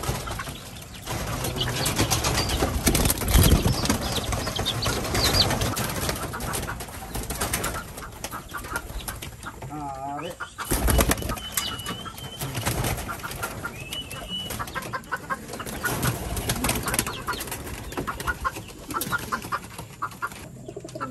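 Pet pigeons and native chickens make close, repeated cooing and clucking calls, with bursts of wing flapping and scuffling scattered over a continuous bird chorus, and no one speaks.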